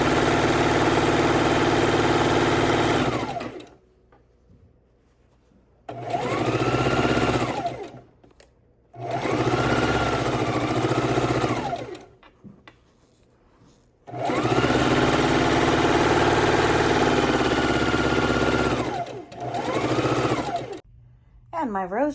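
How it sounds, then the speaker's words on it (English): A sewing machine stitches rows of a layer-cake and jelly-roll quilt in several long runs, each a loud steady motor whir with a rising and falling hum, separated by short pauses. "We're gonna pin and sew all of our rows"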